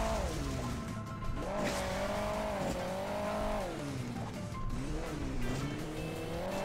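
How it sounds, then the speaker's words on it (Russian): Three rally cars racing on sand in Hill Climb Racing 2, engines droning and revving up and down with wavering pitch, steady and fairly loud with no voices. "Три раллийных авто здесь едет."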